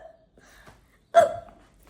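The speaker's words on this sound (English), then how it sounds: "Oh, I have the hiccups." A single sharp hiccup rings out loud and close, a sudden voiced catch after a quiet stretch with faint breathing.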